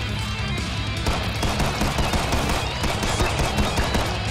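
Rapid, dense automatic gunfire from the shooter game Killing Floor 2 rattles on continuously at high volume, a steady barrage with no pauses.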